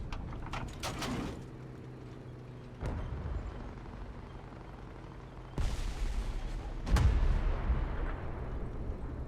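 Tank ammunition stowage blows up in War Thunder, heard as several heavy booming blasts spaced a few seconds apart over a low rumbling battlefield background, with no voices.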